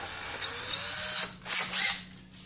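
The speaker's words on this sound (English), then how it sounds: "And I'm using my cordless drill." A cordless drill whirs for about a second and a half, stops, then gives two short bursts, close and loud with no talking.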